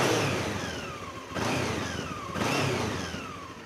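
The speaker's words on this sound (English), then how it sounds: "Let's get the bike started so we can warm up that engine oil" A 1990s Honda CB500 motorcycle engine running, close and steady, with two quick throttle blips that lift the revs and then fall away, no talk over it.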